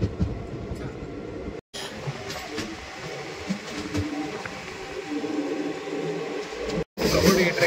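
Chengalpattu Express passenger train running, a continuous rumbling rattle of the coaches heard from inside with rhythmic clatter, briefly cut twice, with a voice speaking over it.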